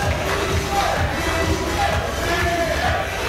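Loud crowd cheering and roaring for a wrestler at a tag-team wrestling event, a dense sustained wall of voices with scattered shouts running throughout, talk faintly mixed in.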